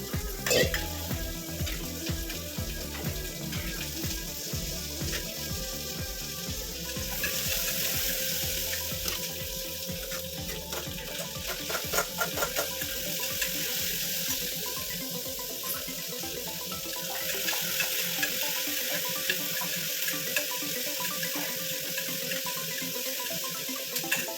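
Continuous sizzling and bubbling of a radish curry in a pan, with scraping stirring strokes throughout, close up and without talk.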